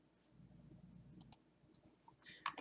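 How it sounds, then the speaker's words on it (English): A few sharp computer mouse clicks on a link, quiet and close, spaced out over a low room hum with no talking. "You'll notice here when I click on the link"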